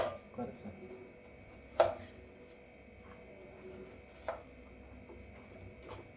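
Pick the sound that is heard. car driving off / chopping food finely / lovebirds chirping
chopping food finely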